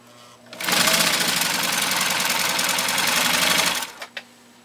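Husqvarna Viking 10M sewing machine with a 1.5 amp Swedish motor stitching through a thick layer of genuine cowhide leather: a loud, fast, steady mechanical whir lasting about three seconds, then stopping with a couple of small knocks.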